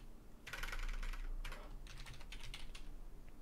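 Keystrokes on a computer keyboard while entering a folder path at a command prompt, quiet, close clicks in quick irregular bursts with short pauses between runs.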